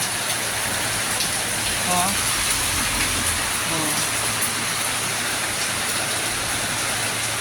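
Heavy rain pours steadily in a dense, continuous hiss over flooded streets, with a voice briefly speaking under the downpour.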